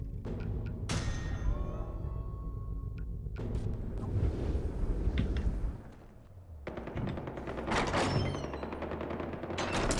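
Gunfire in Far Cry 4 crackles in loud, rapid bursts, sustained automatic fire over rumbling battle noise, with a brief lull midway before the shooting picks up again, and nobody speaking.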